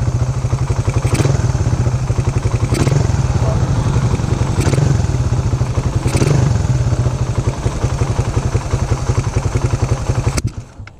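A motorcycle engine runs during carburetor jet tuning, sputtering and bucking unevenly. Its loud, close idle throbs with periodic surges and hiccups, then cuts off abruptly at the end.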